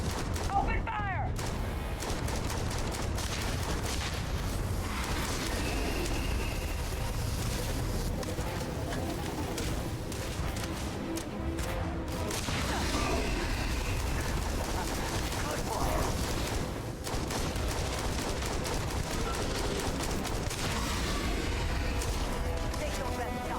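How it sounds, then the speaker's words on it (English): Sustained gunfire from the space game Starfield on PC: dense, loud bursts and rapid shots layered over a constant roar of combat for the whole stretch, with voices talking throughout. "Open fire!"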